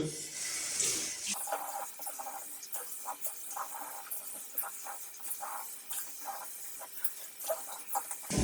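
Water runs from a tap as a face and a silvertip shaving brush are wetted before a safety-razor shave. The hiss is close and steady, with splashes and gurgles from hands moving in the stream.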